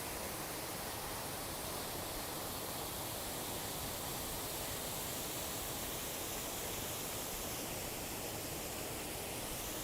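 A waterfall on a snowy hiking trail on Mount Kinsman in New Hampshire, a steady, even rushing roar that continues unbroken with no voices.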